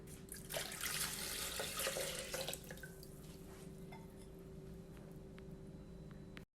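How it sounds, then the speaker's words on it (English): Water poured into a blender jar holding juiced lemons, mint and sugar for Middle Eastern mint lemonade, a steady near splashing rush for about two seconds that settles into quieter trickling and drips, then stops abruptly. "and add in my water."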